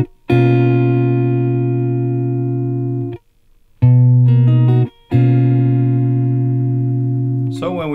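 An acoustic guitar plays a chord from a song with the second and third strings open, strummed three times. Each strum rings out clearly and fades, with short pauses between.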